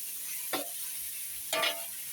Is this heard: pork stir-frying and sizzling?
yes